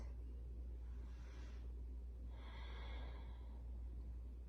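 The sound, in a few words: breathing during yoga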